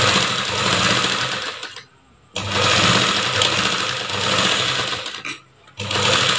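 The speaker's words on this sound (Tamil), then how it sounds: "இந்த கேன்வாஸுக்கு மேலேயே நம்ம தையல் போட்டுட்டு வரணும்" A sewing machine stitches a blouse neckline over canvas, running in loud, fast bursts with two short pauses where the stitching stops and restarts.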